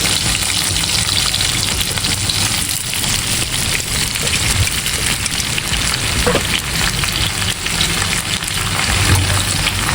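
Raw mango pieces for a sweet pickle sauté in a pan with a dense, constant sizzle that runs unbroken and fairly loud, with no talk.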